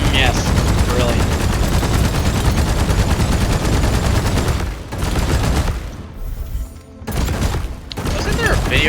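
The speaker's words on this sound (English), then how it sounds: "I'm gonna shoot this." Sustained automatic gunfire from the mining-crew shooter Deep Rock Galactic, a loud, dense continuous rattle that briefly drops out and resumes, with booms mixed in.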